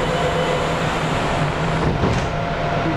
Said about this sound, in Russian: это новый поезд, видишь, схема и вот это метро 9